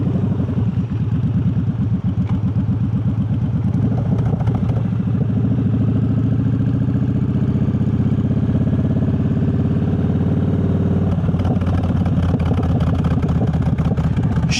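A Triumph Bobber motorcycle rumbles steadily on a coastal road, its engine and exhaust giving a loud, continuous, throbbing note close by that rises slightly in pitch partway through, with no voices.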